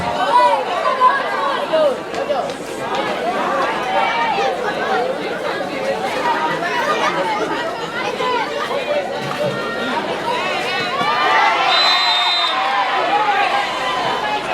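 A crowd of children shouts and chatters without pause at a junior high school football match between SMP YPK 1 Biak and SMP YPK Imanuel Agung Samofa. The noise is a loud, dense babble of voices with scattered higher-pitched cries.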